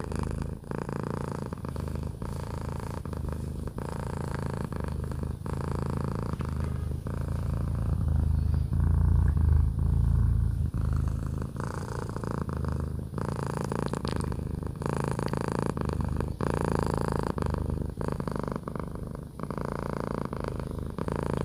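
A contented cat purrs steadily and close up in a soft, rhythmic low rumble that runs unbroken for over twenty seconds, swelling slightly midway, with no talking.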